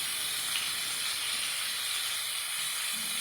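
Small prawns fry in hot oil in a pan for Bengali chingri malaicurry, giving a soft, even sizzling hiss that holds steady the whole time.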